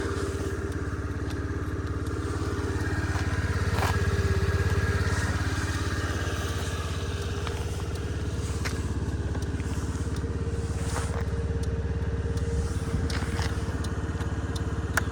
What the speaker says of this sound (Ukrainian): гарно працює двигун, зауваження ніяких до роботи двигунчика немає